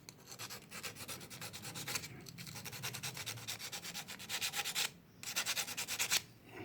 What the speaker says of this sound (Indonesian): Bagian sini sama bagian sini nih diamplas.